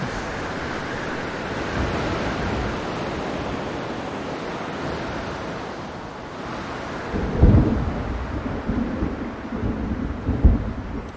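A thunderstorm rolls through the dinosaur park management game Jurassic World Evolution 2, with a dense wash of heavy rain and wind broken by deep thunder rumbles and sharper cracks toward the end.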